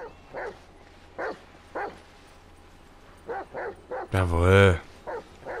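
Chop the dog in the video game GTA V gives a run of short, sharp barks, followed by a louder, drawn-out whine, with someone speaking briefly.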